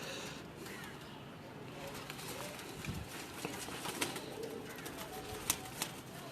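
At a pigeon club, soft pigeon coos sound amid faint outdoor background noise, with a few brief sharper calls and clicks near the end.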